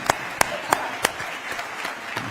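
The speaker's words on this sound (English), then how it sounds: "let's give them a round of applause" Town hall audience applauding, with a few sharp, distinct claps standing out over a thin steady patter that fades and stays moderate through the short stretch.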